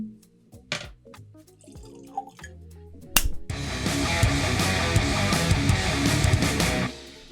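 A 30-year-old malt whisky is poured into a glass, beginning with a few light clinks and drips and then a steady, close liquid pour for about four seconds that stops abruptly.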